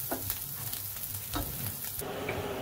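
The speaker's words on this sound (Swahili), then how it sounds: "Hivyo hapo tunaendelea kukaanga." Omena, small fish, frying in oil in a pan for an ugali and omena meal, a steady close crackling sizzle with a few louder stirring scrapes, no voices.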